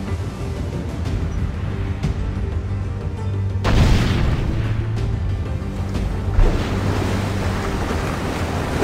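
Cannon fire from a sailing ship in Assassin's Creed IV: Black Flag, heard as a loud boom partway through and a second, smaller thud later, over constant rushing wind and ocean surf. No talking.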